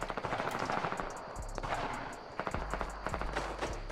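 Fortnite Battle Royale gunfire in a solo versus squads match: rapid, repeated bursts of automatic weapon shots with dense crackling reports that continue almost nonstop for about four seconds, with no talking.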